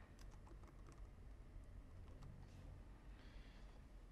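Quiet clicking of typing on a computer keyboard while a stream name is entered, a fast irregular patter of keystrokes that runs steadily with brief pauses and is heard close by without talk.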